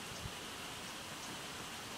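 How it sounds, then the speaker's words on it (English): Heavy rain pours onto a lake in a steady, even hiss, a soft, diffuse wash of falling water with no voices. "There's a boat out in the middle of the lake, and it's pouring rain right now,"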